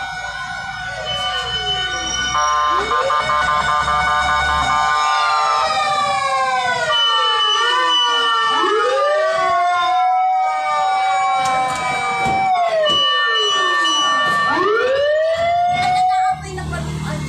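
Several wailing fire truck and ambulance sirens rise and fall loudly and continuously, overlapping one another, with a crowd talking and traffic rumbling underneath at a fire in Bago Bantay, Quezon City.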